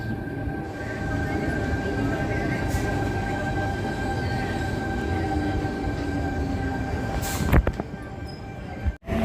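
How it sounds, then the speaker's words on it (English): A Sydney Oscar H set electric train pulls into platform 4 at Wolli Creek station with a loud, steady rumble that continues throughout, then sharp clanks and a brief squeal near the end. "An Oscar H set is now arriving on platform number 4 for a Kiama service."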